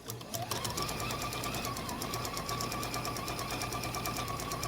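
A sewing machine runs steadily, stitching quilt squares for churn dash and hexie flower blocks a quarter inch from the center line, with a continuous close whir and rapid needle rhythm throughout and no talking.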